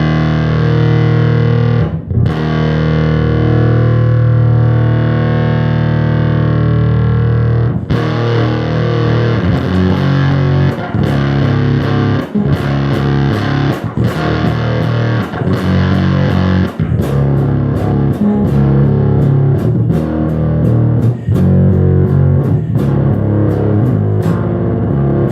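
Bass guitar through a ZVEX Woolly Mammoth fuzz pedal, a thick, heavily distorted growl with sustained notes and sharp picked attacks, played alone and loud.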